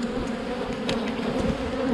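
Honey bees buzz in a dense, continuous hum from an open beehive, close and steady, with individual bees droning past now and then and no talking.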